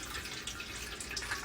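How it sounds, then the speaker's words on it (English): Hot candle wax pours from a pitcher, a soft liquid trickle with small dripping splashes, close and continuous over a quiet background. "we're just going to pour the wax"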